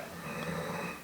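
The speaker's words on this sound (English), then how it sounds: "he is snoring so loud" A man snoring loudly nearby, one rough drawn-out breath lasting about a second, heard alone.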